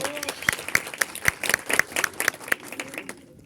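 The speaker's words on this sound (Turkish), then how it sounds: "Ona bir alkışlayabilir miyim?" A crowd applauds steadily at a cinema screening event, dense clapping from many hands that fades out near the end.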